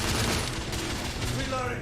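Thermite rifle fire erupts in the PS4 game The Order: 1886, a dense burst of rapid shots and blasts under shouted voices in a chaotic firefight.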